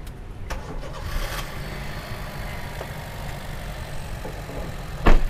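A used car's engine cranks and catches, settling into a steady low idle rumble with a few faint knocks, ending with a sharp click near the end.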